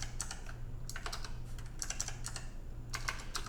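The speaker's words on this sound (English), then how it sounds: "that clicking noise is coming from my mechanical keyboard" Mechanical keyboard typed on in bursts of crisp, clicky keystrokes, close and fairly quiet over a steady low electrical hum, with brief pauses between runs.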